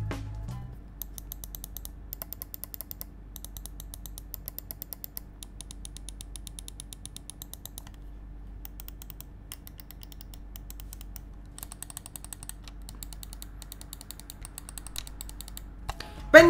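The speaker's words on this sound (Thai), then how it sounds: "เดี๋ยวผมจะให้ฟังเสียงกดและการเสียงกดมันเป็นอย่างไร" Rapid, crisp clicking of a NUBWO X35 Valkyrie macro mouse button in quick bursts and runs, close-up against a quiet background with no talking.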